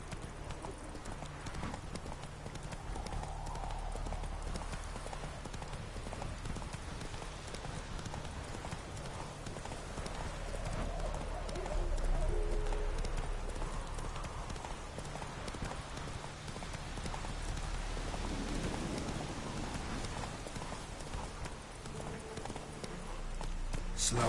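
Roach, a horse in The Witcher 3 video game, gallops with a steady, rhythmic clip-clop of hooves that continues at moderate level throughout, with faint extra noise mixed in.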